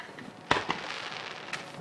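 New Year's fireworks bursting outdoors in a backyard on a freezing night in Wellsburg: a sharp nearby bang, a second smaller pop just after, then a fainter distant burst against a low steady hiss.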